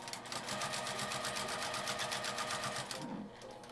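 A sewing machine stitches twill tape for a shoulder strap in a fast, even, continuous rhythm of needle strokes, close and clear, then stops abruptly near the end with a soft mechanical thunk.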